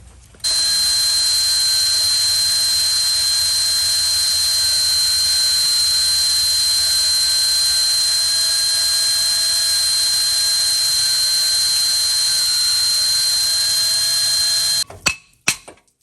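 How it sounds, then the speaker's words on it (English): A power drill whines steadily and loudly for about fourteen seconds while drilling off a bolt head during brake work on a Chevy Cruze. The tone stays high and sustained, then stops abruptly, followed by a few sharp clicks. "So we gotta drill this off."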